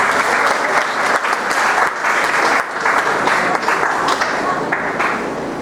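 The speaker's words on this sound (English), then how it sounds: "Round of applause, please." Loud, steady applause from a conference audience welcoming a speaker at an urban redevelopment conference, many hands clapping continuously with slight swells and dips, and a few voices faintly mixed in.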